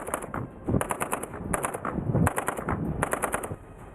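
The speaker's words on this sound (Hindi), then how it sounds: "किनारे पहुंचने के बाद ये जवान गोलियां चलाते हुए अंदर की तरफ बढ़ने लगे।" Soldiers fire automatic rifles during a Russian military exercise, rapid bursts of shots coming in several clusters over a few seconds, loud and close with ringing echoes between volleys.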